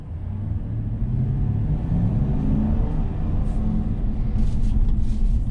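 A 2021 Chevy Silverado truck drives in sport mode, its steady low engine rumble and road drone filling the cabin continuously with no talk.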